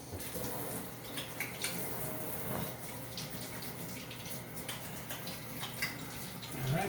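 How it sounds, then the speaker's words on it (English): Hands rinsed under a running kitchen tap while preparing stuffed peppers with raw pork sausage; steady broadband water flow, close and continuous, with small splashes and clinks, no talking. "Let me just rinse my hands off now."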